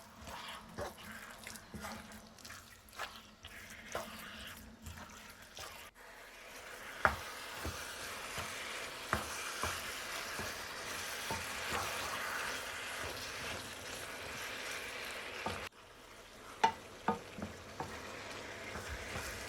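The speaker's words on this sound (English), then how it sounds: "Stirring continuously for about 20 minutes" Chicken mince is stirred continuously in a pan, giving a steady low sizzle with scattered scrapes and taps of the spoon, quiet and close, running on without a break and with no voices.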